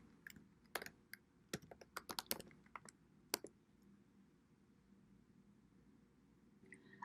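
Irregular bursts of keystrokes on a computer keyboard as a name is typed into a search bar, crisp close clicks clustered in the first few seconds, then a pause with faint room hiss and a final tap.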